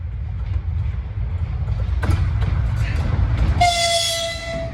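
A train rumbles along the railway nearby with a low continuous roar, a sharp clank, then a loud sustained horn blast near the end.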